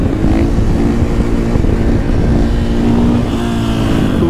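Motorcycle held in a wheelie while the throttle stays open, a loud, close, steady engine roar with a sustained droning tone throughout.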